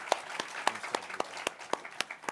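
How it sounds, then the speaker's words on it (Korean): A congregation claps together during a Sunday worship service in a church, a quick run of sharp, fairly even claps at a moderate distance, with no voices over it. "한영 박수 드립시다"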